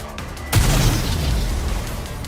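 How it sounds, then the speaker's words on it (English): Homemade explosives go off in the video game Goddess of Victory: Nikke, a single loud boom bursting in after a quieter moment and trailing into a long rumbling decay. "Explosives? They appear to be homemade. The explosions aren't stable."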